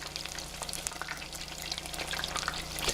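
Shrimp frying in hot oil for a tempura dinner: a continuous bubbling sizzle with scattered sharp crackles and pops, fairly close and unbroken by talk.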